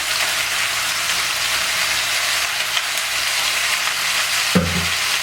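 Thinly sliced sweet potatoes fry in a pan with a steady, close sizzle that holds through the whole stretch, with a brief stir or clatter near the end.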